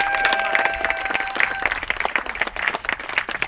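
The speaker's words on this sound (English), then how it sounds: "give Kyle and all the city employees a round of applause" Outdoor crowd at a water system groundbreaking ceremony claps for city employees, a fairly quiet, patchy round of applause with individual claps standing out, thinning toward the end.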